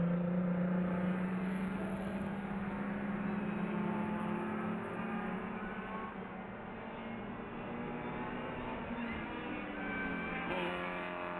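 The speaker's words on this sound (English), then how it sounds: "And you can actually pick up a little of that blower whine there." A supercharged Mini Cooper race car competing at the 2011 NASA Championships, heard as a steady engine drone with a thin, rising blower whine, fairly distant and without any talk.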